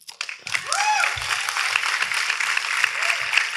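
An audience claps and applauds through most of the moment after a remark, moderately loud and steady, with a few faint voices and a brief tonal sweep near the start.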